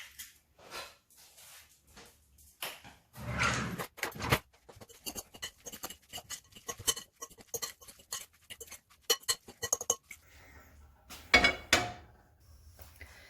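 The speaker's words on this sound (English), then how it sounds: "I'm going to crack this egg directly into the bowl and give everything a good mix" A utensil stirs egg into hash brown mix in a bowl, giving irregular light clicks and clinks against the bowl, some in quick clusters with short pauses between.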